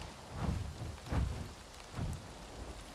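Steady rain falls in the game Avatar: Frontiers of Pandora, a soft wash of drops with low thunder-like rumbles swelling three times, moderately loud and with no voices.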